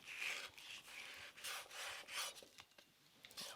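A knife slices guanciale into thick slices, about half an inch each, on a board. Soft, very quiet rasping strokes repeat in an uneven rhythm, with no voices.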